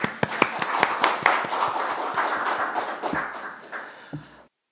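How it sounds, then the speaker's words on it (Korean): Applause at a Korean council budget committee meeting celebrating Ulsan's designation as a free economic zone, a burst of many hands clapping that starts sharp and gradually fades out over a few seconds. "축하하는 의미에서 박수를 보내겠습니다."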